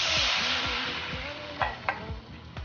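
Sweet-and-sour honey sauce sizzles and hisses loudly in a hot pan with deep-fried pork, with a few sharp scraping stirs toward the end.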